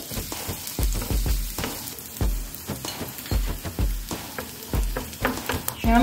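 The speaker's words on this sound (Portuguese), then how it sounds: "Uma fritadinha nesse alho aqui." Garlic fries in a pan with a soft background sizzle, punctuated by several loud, sharp knocks and clatters of a utensil hitting the pan at irregular intervals.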